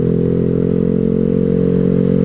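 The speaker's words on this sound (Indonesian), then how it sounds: "suara knalpot gue udah mulai nggak enak nih guys" A worn motorcycle exhaust with partly burnt internals idles close and loud, giving a steady rough, hollow drone with a fast uneven flutter and no talk.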